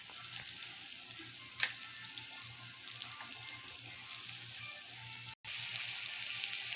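Shrimp paste (alamang) fries in oil while being stirred, a steady close hiss of sizzling with a sharp clink partway through and a momentary break near the end, with no voices.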